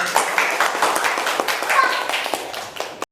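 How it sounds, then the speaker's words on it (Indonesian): Classroom of schoolchildren claps for a presenting group, loose uneven hand claps with individual sharp slaps standing out, near and lively, stopping abruptly at the end. "tepuk tangan untuk kelompok 5"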